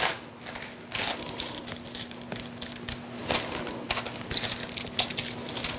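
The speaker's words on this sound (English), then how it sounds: "Now we're going to start at the wide end and roll this up jelly roll style." Wax paper crinkles and rustles as cookie dough for chocolate mint pinwheels is rolled up jelly-roll style in a kitchen, giving close, continuous crackling with irregular louder crunches over a low steady hum.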